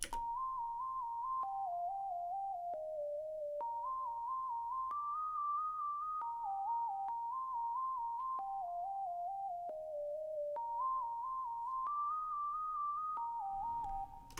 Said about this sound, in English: Then I have a sine here that plays this melody